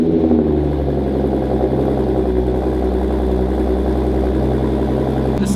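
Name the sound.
Audi S5 engine cold start with AWE touring exhaust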